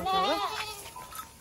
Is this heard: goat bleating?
yes